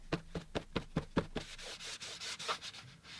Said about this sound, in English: You could take some paper towels or tissues and blot up a little bit of paint along the snow